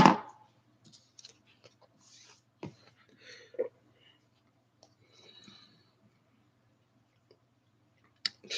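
Small scissors make sparse, quiet snips and clicks while trimming the belly and taper of a fry-pattern fly during tying, with long silent gaps between cuts.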